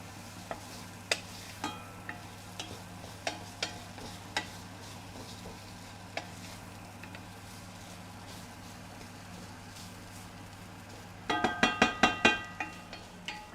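Ginger, garlic and chilies fry in a pan with a soft steady sizzle, punctuated by scattered sharp clinks and scrapes of stirring that turn into a quick burst of clatter near the end.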